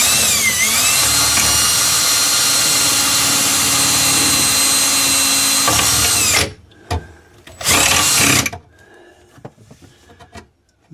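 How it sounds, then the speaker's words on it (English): Power drill boring a hole during electrical work, a loud steady whine for about six seconds, then stopping, followed by a brief second burst and quiet handling noises. "So let me drill a hole here."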